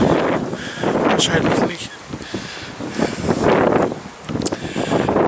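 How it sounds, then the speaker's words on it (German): Strong gusts of outdoor wind buffet the microphone on a dog walk, rising and falling in loud surges, while someone speaks German over them. "Es windet und ich hoffe, dass ihr noch was versteht."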